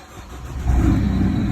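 An Opel Meriva 1.7 CDTI diesel engine cranking and catching after a turbo replacement, close up, rising quickly into a steady loud idle rumble.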